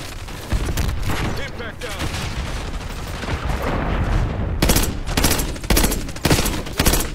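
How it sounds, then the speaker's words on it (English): Rapid, loud automatic gunfire from the Call of Duty Black Ops 6 video game, with dense overlapping shots and heavy low-end rumble, ending in distinct short bursts with brief gaps between them. "Where are my shots going?"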